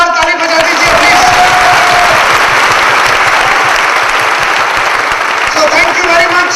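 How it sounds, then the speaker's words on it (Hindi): An audience at a Hindi motivational talk claps loudly, a dense and sustained round of applause that carries on for several seconds, with some crowd noise mixed in. "तो इनके लिए भी एक जोरदार ताली बजा दीजिए प्लीज"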